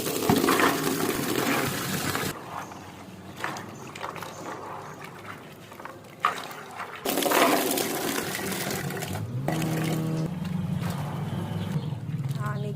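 Raw peanuts are washed by hand in water in a home kitchen, with sloshing, splashing and the rattle of shells against the vessel in uneven bursts. A voice is briefly heard.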